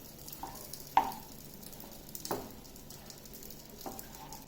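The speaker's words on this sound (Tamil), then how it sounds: "அதே இதில் கிளறி விட்டுக்கோங்க." Jackfruit eriseri with curry leaves is stirred in a pan, a quiet background sizzle broken by three soft scraping strokes of the spoon, with no talking.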